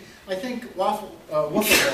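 A single sharp sneeze bursts out near the end of a spoken evaluation at a public-speaking meeting, following steady talk from a nearby speaker.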